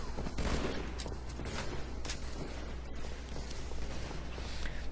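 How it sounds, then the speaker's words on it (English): Sniper rifle fire rings out during a competitive team shooter video game match, with sharp cracks buried in a dense, continuous wash of loud in-game noise. "Buck 57 helping out with that snipe across map"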